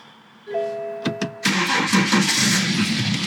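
A BMW F15 X5 SUV, stored unused with a weak battery, cranks and starts: dashboard chimes first, a brief starter whir, then the engine catches and settles into a loud, steady idle close by.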